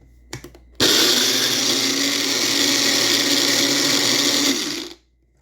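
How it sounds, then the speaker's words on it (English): A blender blending blueberries whirs loudly and steadily for about four seconds, starting abruptly after a couple of clicks and winding down at the end. "I'm going to give mine a quick blend in the blender."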